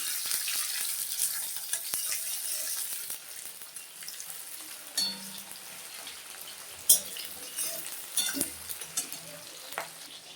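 Two medium-sized chopped onions sizzle steadily in hot oil alongside already-browned pieces while making chicken curry, with occasional louder stirring scrapes and clanks over a constant frying hiss.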